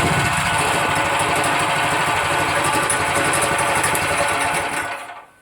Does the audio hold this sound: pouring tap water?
no